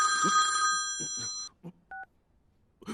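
A mobile phone rings inside a police station, a bright electronic ringtone that cuts off after about a second and a half, with sparse voices and a short beep following.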